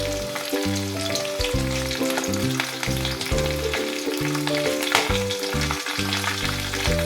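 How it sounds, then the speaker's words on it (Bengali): Whole spices fry in hot oil for a Bengali onion-and-poppy-seed dish, a steady close sizzle with faint crackles, heard alone with no talking. "একটুখানি ভাজা ভাজা হওয়ার পর আমি পেঁয়াজগুলো দিয়ে দেব।"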